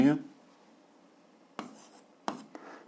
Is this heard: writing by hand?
yes